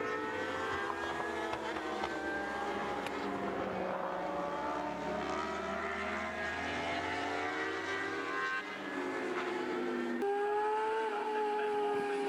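A Yamaha R6 racing motorcycle screams through Clark Curve onto the front straight at Brands Hatch, high engine whine rising and shifting pitch through gear changes, steady and fairly distant, with other bikes audible.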